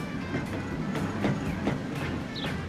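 A train runs along the rails with a steady rumble and a regular rhythmic clickety-clack of wheels over rail joints. It is close and constant, with a faint high squeal near the end.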